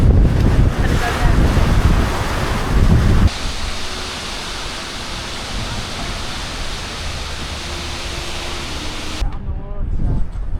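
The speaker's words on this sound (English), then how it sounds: "Getting a bit windy now." Strong wind buffets the microphone at a fjord viewpoint on the Pulpit Rock hike near Stavanger, a loud continuous roaring rush with heavy low rumble, and voices briefly audible near the start and end.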